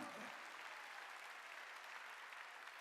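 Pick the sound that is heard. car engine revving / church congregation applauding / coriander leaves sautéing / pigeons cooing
church congregation applauding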